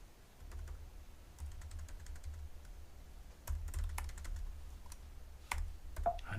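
Typing on a computer keyboard during PHP autograder coding work: quiet, irregular clicking keystrokes in uneven bursts, close and faint over a low steady hum, with no voices.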